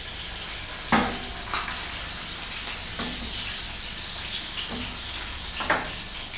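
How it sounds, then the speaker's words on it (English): Lamb shanks browning in a hot pan, with a steady crackling sizzle and a few sharp pops or bumps as the meat shifts, close by with no talking. "we're just gonna brown that a little bit, just so we can get a bit of color on the outside"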